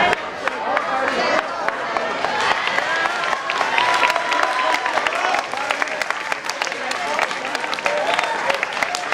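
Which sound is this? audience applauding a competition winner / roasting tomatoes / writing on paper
audience applauding a competition winner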